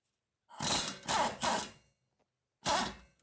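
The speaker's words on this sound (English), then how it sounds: "We're going to see if we can get an impact wrench on there." An impact wrench loosens a wheel bolt on a Subaru during front wheel bearing work, firing three quick close bursts, pausing, then hammering once more with a short tail at the end.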